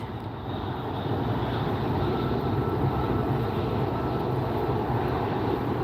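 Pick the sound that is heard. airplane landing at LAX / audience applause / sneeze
airplane landing at LAX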